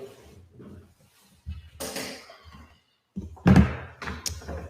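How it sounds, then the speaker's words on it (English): Indoors, a door being closed gives a few dull thumps and knocks, the loudest near the end, amid quiet background shuffling. "Can you close the door?"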